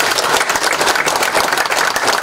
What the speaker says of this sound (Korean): 7분의 출마 예정자분들께 다시 한번 우리와 같은 박수를 부탁드립니다.